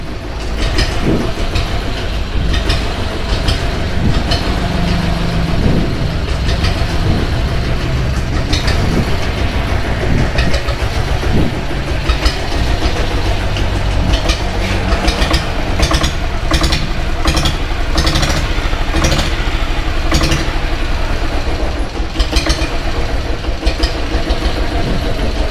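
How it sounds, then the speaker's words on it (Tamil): A 1997 diesel Bullet motorcycle engine idles with a steady, thumping exhaust note, close to the microphone and continuous throughout, with no voices. "இல்லை, இன்ஜின் நாய்ஸே இல்லைங்க, எக்ஸாஸ்ட் நாய்ஸ் மட்டும்தான் வருது."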